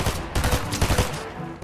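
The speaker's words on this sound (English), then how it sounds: "He's shooting at me." Rapid bursts of gunfire in a Fortnite match, several close, loud shots in quick succession forming a dense, crackling volley with no talking.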